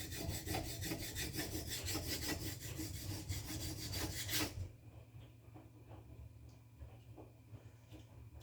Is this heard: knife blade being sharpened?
yes